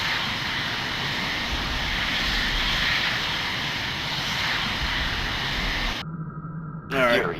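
Jet aircraft landing in the Falcon 4.0 flight simulator game: a steady, loud engine roar fills most of the clip, then cuts off near the end to quieter cockpit sounds with a short swelling tone.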